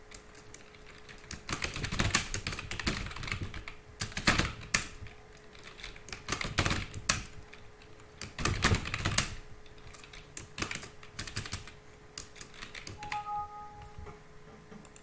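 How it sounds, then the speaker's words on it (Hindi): Bursts of typing on a computer keyboard, fast clusters of key clicks separated by pauses, fairly close and moderately loud, with a faint steady hum underneath and no talking. "यहाँ पर आपको टाइप करना है।"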